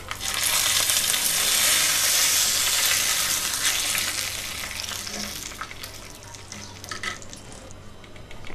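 Tempering spices with curry leaves frying in hot oil for pacchi pulusu, a loud close sizzle and crackle that starts strong and gradually settles into softer spitting and popping.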